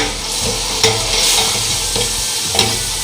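Egg fried rice stir-fried in a hot pan after soy sauce is added, a steady loud sizzle with repeated tossing and scraping strokes of the spatula, close and without speech.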